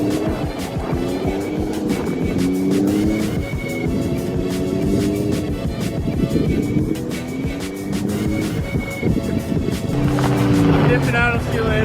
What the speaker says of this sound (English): there goes Jesse in the Beamer